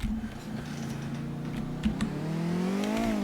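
A hijacked prison bus engine drones steadily while driving in GTA: The Lost and Damned, a low continuous hum that rises slightly in pitch toward the end, with occasional knocks and bumps.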